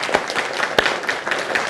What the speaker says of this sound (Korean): 박수를 한번 뜨겁게 합시다.